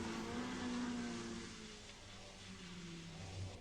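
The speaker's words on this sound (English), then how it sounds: "6 cars approach it, and 3 of them are lapping the other 3." Several racing cars, three lapping three others, near the old hairpin at Donington during a Formula racing event, their engines droning and revving continuously at moderate distance, easing off slightly mid-way then building again.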